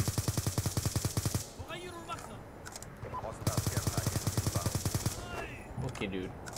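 Rapid-fire MP7 bursts in the video game Black Ops 2, fast rhythmic shots in two long strings with short gaps, while people talk between and over the firing.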